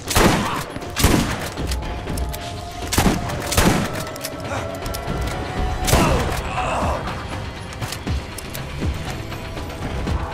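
Sniper gunfire in the video game Borderlands, with a handful of loud, sharp cracks spaced a couple of seconds apart among mechanical clicks and ratcheting weapon handling over a busy background.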